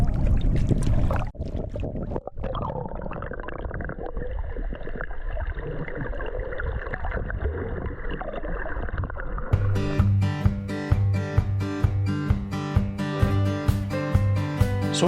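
Boat running on choppy, wind-whipped water while out scalloping off Steinhatchee, Florida, with hull slaps, splashing and rushing water, then a rhythmic series of hard thumps as the boat pounds through waves.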